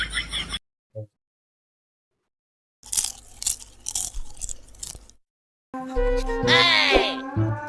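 Someone chews and bites food close up, giving bursts of crunchy, crackling mastication between pauses, with a voice and other sounds breaking in near the end.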